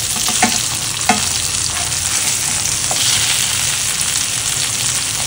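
Fish coated in green masala fries in a pan, a steady close sizzle running throughout with a few soft clicks and scrapes from the pan.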